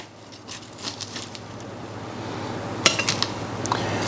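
Roasted Brussels sprouts with bacon and garlic are tipped into a bowl. Scattered light clinks and scrapes of a utensil against the dish are followed by a brighter cluster of clattering knocks near the end.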